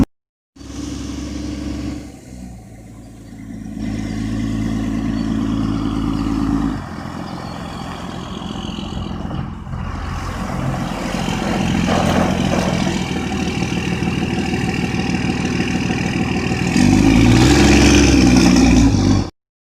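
A 1990 Dodge W250 first-gen Cummins diesel truck being driven after a brake job, its engine droning steadily and loudly for the whole stretch, rising in pitch as it speeds up and easing between pulls.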